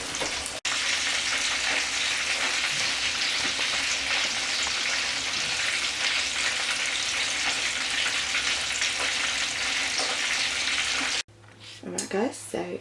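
Fish fillets frying in hot oil for escovitch fish, a loud, steady, close sizzle that cuts off near the end as a voice begins talking.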